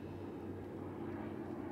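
An airplane engine near an airport in the Gas Station Simulator video game gives off a faint, steady low drone that holds unchanged for the whole short stretch, with no talk over it.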